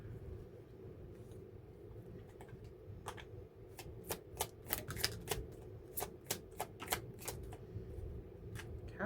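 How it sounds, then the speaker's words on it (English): A deck of tarot cards is shuffled by hand, with a quick run of sharp riffling card snaps over a low background rumble, close and fairly loud, with no talk. "I always go through this deck twice because sometimes it doesn't like to shuffle correctly."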